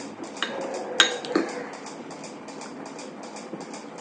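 Curd and milk are mixed in a bowl, a spoon scraping softly with one sharp clink and a few lighter taps against the bowl, over a faint background hum.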